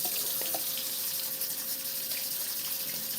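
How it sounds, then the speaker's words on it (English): A kitchen tap runs steadily as hands are washed, a continuous close hiss of flowing water with a few faint splashes. "let me wash my hands."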